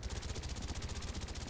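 Rapid suppressed gunfire from silenced weapons in Call of Duty: Black Ops on PC, a fast even stream of muffled shots running without pause under quiet game ambience.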